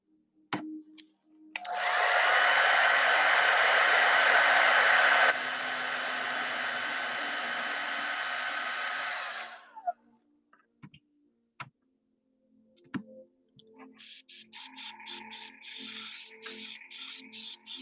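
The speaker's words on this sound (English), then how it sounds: "I'm going to hit it with a hair dryer." A hair dryer blowing on wet paint runs loud and close for about eight seconds, shifting pitch partway through, then cuts off. Faint ticking follows, and a rapid clicking burst comes near the end.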